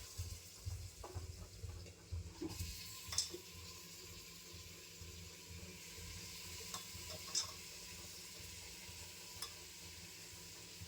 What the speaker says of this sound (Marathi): याच्यात आपण आता ह्याचे चिकनचे पीसेस टाकून घेऊया.